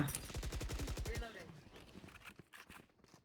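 Rapid automatic gunfire from the video game Valorant bursts in a fast, even rhythm, then gives way to sparser shots and footsteps while a voice talks over the later part.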